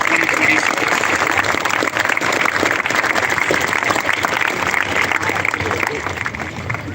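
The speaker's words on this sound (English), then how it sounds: "Please join me with a huge round of applause to celebrate these accomplished scholars" Sustained applause from an audience at a high school graduation ceremony, dense and steady clapping from a large crowd for the full stretch, easing slightly toward the end.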